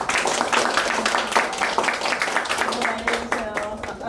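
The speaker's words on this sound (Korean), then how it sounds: "박수 한번 합니다" A church congregation at a seminary opening worship service claps in a short, lively round, with voices and speech mixed in over the clapping throughout.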